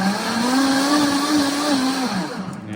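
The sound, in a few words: blender blending lemon ice mixture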